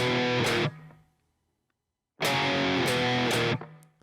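A heavily distorted electric guitar plays the ending of a verse in standard tuning, with a short chugging burst, a pause of near silence, then a longer run of quick palm-muted notes ending on a ringing chord.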